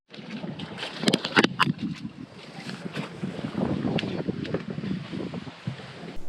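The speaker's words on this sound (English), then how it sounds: "the wind is really, really bad out here today" Strong gusty wind buffets the microphone aboard a bay boat, producing loud irregular rumbling bursts and pops that swell and fade throughout.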